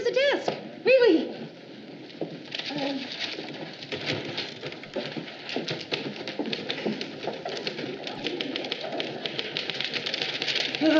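Rapid typewriter keystrokes clatter steadily in an office on a sitcom set, mixed with pigeon cooing and brief voices at the start.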